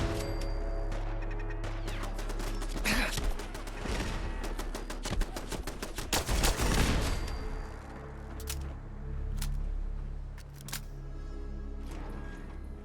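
Automated turrets in the post-apocalyptic game Fallout 4 fire a rapid clattering stream of shots over a steady low hum, the bursts peaking in the middle and then thinning to scattered single pops.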